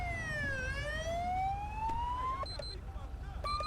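A Victorian police slicktop VE highway patrol car in GTA 5 LSPDFR sounds its siren loud and near, one long falling-then-rising wail that cuts off abruptly, followed by short electronic yelps over a low rumble.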